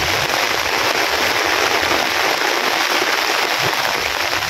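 Steady, dense rain hisses without pause during severe flooding, a continuous wash of drops on surfaces that stays even and loud throughout.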